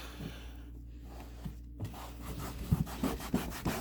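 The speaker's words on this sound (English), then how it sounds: "I'm not having to press too hard to get that scrubbing action going" Close brush scrubbing along grooves, with soft rasping strokes that build into quicker, louder rubbing bursts toward the end.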